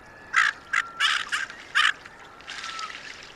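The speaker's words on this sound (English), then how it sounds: "And they make duck noises." Small diving ducks calling: a handful of harsh, raspy squawks in short bursts, then a longer trailing call, moderately close over a quiet background.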